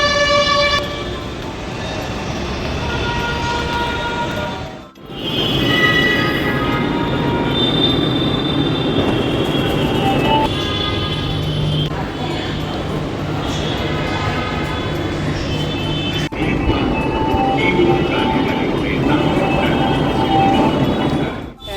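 A metro train at a station rumbles loudly and steadily with squealing wheels and a horn-like toot, its sustained roar dipping briefly before continuing nearby.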